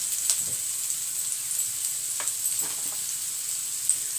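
Radish bhujia sizzles steadily in a pan while spices are stirred in, a soft continuous frying hiss with a few faint scraping strokes of a spoon and no talking.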